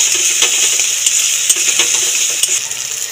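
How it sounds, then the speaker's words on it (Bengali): Spice paste with turmeric and salt is sautéed in a pan, giving a steady close sizzle with scattered clicks and scrapes from stirring and a few brighter metallic taps, with no talking. "অল্প করে নুন দিয়ে ভালো করে মশলাটাকে কষিয়ে নেব"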